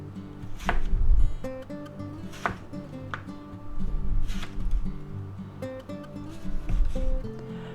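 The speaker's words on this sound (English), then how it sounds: "you can cut them on an angle" A knife chopping food into angled strips on a board gives a series of crisp, irregular chops close by, partly under steady melodic background music.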